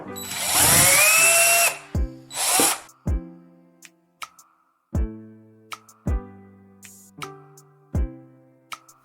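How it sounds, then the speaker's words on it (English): A power drill bores holes through the handles of a pair of pliers: a long, loud whining burst followed by a second short burst, then a series of sharp, evenly spaced knocks and clicks as the tool and workpiece are handled. "Make holes in the pliers handles and insert the spring."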